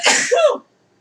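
A short, explosive sneeze close by, loud and breathy, ending abruptly into silence.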